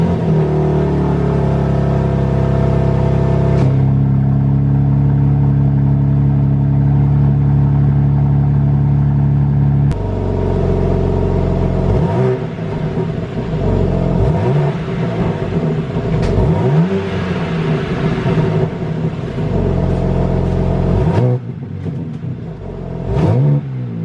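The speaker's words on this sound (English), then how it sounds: "first I'm gonna do a cold start so you guys can hear what the car sounds like right now" Stock exhaust of a 2024 BMW G80 M3 on a cold start: a loud, steady, elevated idle drone, then a series of sharp revs rising and falling, close to the car with no talking.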